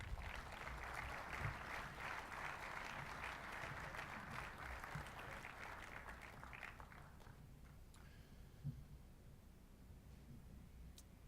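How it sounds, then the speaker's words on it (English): Panelists at a venture capital event get a round of applause from the audience, steady and broad for about seven seconds, then thinning out to a few scattered claps and soft room noise. "Give them a round of applause."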